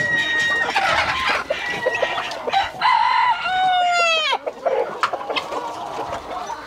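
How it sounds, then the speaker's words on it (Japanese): A rooster clucks repeatedly, then lets out a loud, close crow with a rising and falling pitch, followed by more clucking. "教科書に書いてあるようなニワトリだ。"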